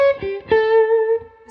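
Electric guitar played through a Mad Professor Supreme Overdrive pedal, a few close, loud distorted notes with one sustained note ringing out before cutting off.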